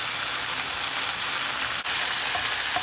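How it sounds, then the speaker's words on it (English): Chicken breast pieces with elote seasoning sizzle loudly in a hot pan, a continuous bright crackling hiss close by, with one brief dip and a small click near the end. "Some of the chicken pieces are sizzling up and evaporating"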